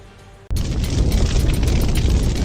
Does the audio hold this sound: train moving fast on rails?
no